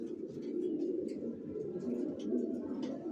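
Young racer pigeons coo steadily in a low, continuous murmur. The sound is soft and unbroken, with faint chirps above it.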